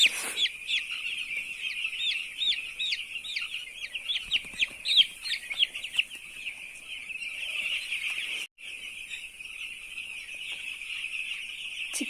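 Many chicks on a poultry farm peeping constantly in a dense, high chorus, close and steady with overlapping chirps and no talk.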